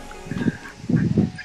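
Ducks at a pond at Victoria Esplanade on a summer evening give two loud, close, honking quack bursts in quick succession.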